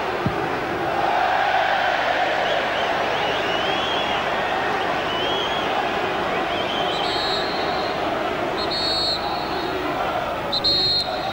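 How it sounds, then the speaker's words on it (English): A football crowd at Manchester City's stadium roars with a sustained, dense cheer that fills the whole stretch, loud and even, with faint beeps near the end. "Big cheer at half-time, Rob, around Main Road."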